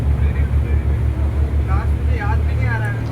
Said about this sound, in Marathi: आणि मी बसलेलो आहे बोटमध्ये, जी आहे PNP.